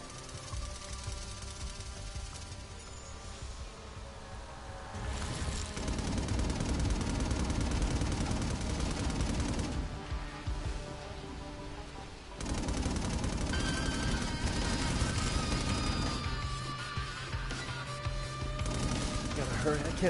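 Auto turrets fire sustained bursts of rapid automatic gunfire in the inFAMOUS Second Son video game, with loud rattling stretches broken by short pauses, mixed with game sounds and voices talking.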